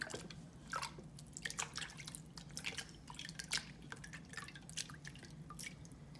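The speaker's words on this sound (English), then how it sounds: "And I scrub my hands and then wash it off." Water dripping and splashing as scrub is rinsed off hands, faint close irregular drips and trickles over several seconds with no talk.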